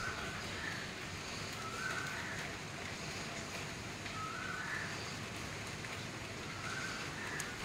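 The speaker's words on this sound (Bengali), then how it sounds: "ফোঁটা ফোঁটা বৃষ্টি হচ্ছে, সেরকম জোরালো নয়" Soft, steady rainfall with a faint continuous patter in the distance, with occasional faint bird chirps in the background.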